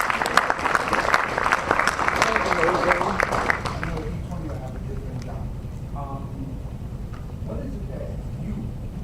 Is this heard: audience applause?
yes